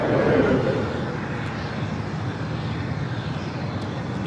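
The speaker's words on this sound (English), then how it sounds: "Here on the north side, Asiana Airlines flight 201 heading back to Seoul." An Asiana Airlines Airbus A380 takes off at LAX with a steady, heavy jet roar, loud and close throughout, peaking early and then holding at a broad rumble.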